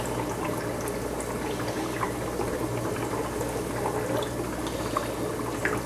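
Aquarium siphon tube drawing water and debris off the bottom of a clownfish fry tank, a steady bubbling, gurgling rush that runs unbroken and fairly close throughout.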